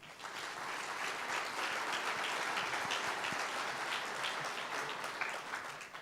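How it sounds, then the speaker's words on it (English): A crowd applauds the booster club members at an arena dedication ceremony, a steady, dense clapping that holds at an even level for the full six seconds with no talk over it. "Let's give them a short round of applause."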